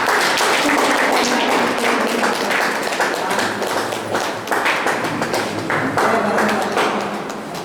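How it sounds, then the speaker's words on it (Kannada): Audience applause at a book release event, a dense, continuous patter of many hands clapping at close range that fades slightly toward the end. "ಎಲ್ಲರೂ ಚಪ್ಪಾಳೆ"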